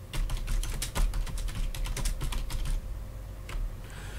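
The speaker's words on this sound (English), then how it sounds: "manually typing the text in the window" Someone types on a computer keyboard in a quick, irregular run of clicking keystrokes, close and moderately quiet, before a brief pause and a few last taps.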